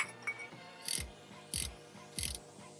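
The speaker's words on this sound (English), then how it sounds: "Grab our ratchet. Just move it." Three sharp, close ratchet clicks, evenly spaced, as a ratchet loosens the cam chain sprocket bolt on a Honda S2000, each a brief burst of metallic clicking in a quiet garage setting.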